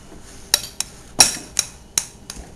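A spoon clinks sharply against a pot during a quick stir, about six separate metallic taps at an uneven rhythm, close and fairly loud against a quiet kitchen background.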